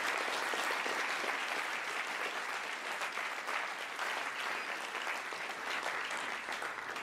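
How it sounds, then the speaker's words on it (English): Sustained applause from an audience honoring judges, mentors, advisors and supporters at a fall design challenge showcase, a dense steady wash of many hands clapping for the full seven seconds with no pause. "Let's give them a round of applause."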